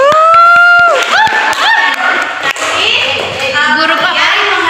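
A school class of students cheering and applauding at the end of a biology lesson, loud excited children's voices shouting together with some clapping underneath.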